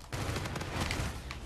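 Rapid automatic gunfire in Call of Duty Infinite Warfare from a Karma 45 class loadout, a dense burst of sharp shots over about a second and a half, loud and close.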